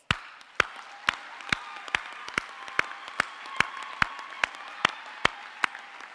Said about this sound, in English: take a bow and hear the applause